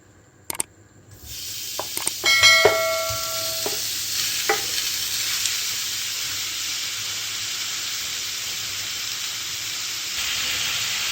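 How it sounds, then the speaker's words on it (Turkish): Just over half a kilo of cubed beef hits a well-heated pan for tas kebab, bursting into a loud, steady sizzle after a few sharp clinks, then holding a continuous hiss of searing meat with no talking. "Bayağı bir ısıttım tavayı. Şöyle yarım kilodan biraz fazla dana kuşbaşı etim var. Şöyle tavama alıyorum."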